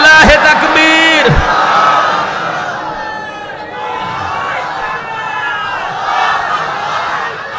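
At a Bengali Islamic waz sermon, a single voice calls out takbir, answered by a large crowd roaring 'Allahu Akbar' together. The loud collective shout swells and lingers as a sustained rumble.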